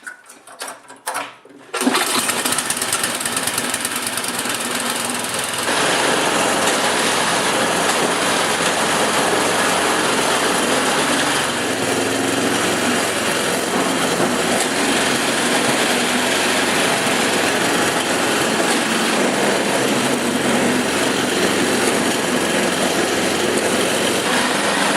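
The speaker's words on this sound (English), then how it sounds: "Now I'm going to start it up and just test it in the shop here" A snowblower engine runs steadily indoors in a shop after starting, a loud continuous mechanical drone with rattling, clattering mechanism noise that holds constant for most of the stretch following a brief startup burst.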